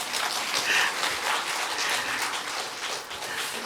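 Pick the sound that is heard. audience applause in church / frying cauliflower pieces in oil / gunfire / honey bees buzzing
audience applause in church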